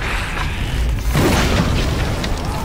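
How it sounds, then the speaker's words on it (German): A deep, loud explosion booms in the video game Middle-earth: Shadow of Mordor, a sustained rumbling blast with rattling debris that fills the short moment. "Was war das? Eine Explosion? Ja, das war eine Explosion!"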